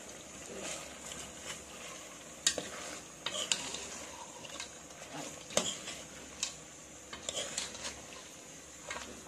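Mutton sautéing in a pan with chilli powder and coriander powder, a soft steady sizzle with intermittent scraping and tapping of a stirring spoon against the pan, close and fairly quiet, with no talking.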